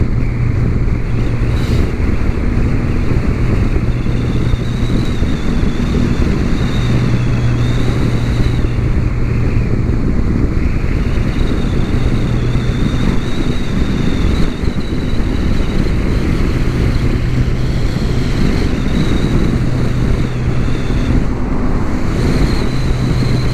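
A 2017 Polaris Slingshot drives along a road with heavy, constant wind buffeting and a steady low rumble of engine and road noise throughout.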